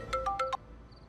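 A mobile phone rings with an incoming call, four short bright electronic tone bursts in quick even succession, fairly quiet, then silence with faint room noise.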